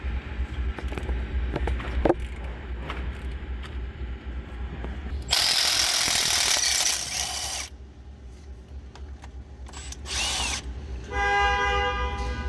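A twin ratchet works a tight nut free on the AC compressor of a 2019-up Chevy Silverado/GMC Sierra-class truck, giving quick clicking ratchet bursts between louder, harsh broadband grinding stretches, close up with no talk.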